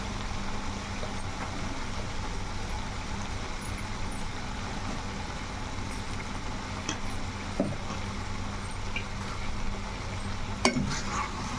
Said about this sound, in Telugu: కారం వేసుకొని చక్కగా కలిపేసుకొని